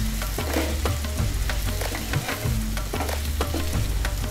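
Boiled medium-size potato pieces frying with spices in a pan for a Gujarati meal made without garlic or onion, a continuous sizzle broken by repeated scraping and stirring strokes, close and steady with no talk.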